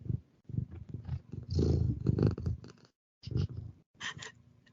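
A cat purring close up, a soft rumbling purr in uneven bursts with brief pauses and a longer silent gap, with no talking.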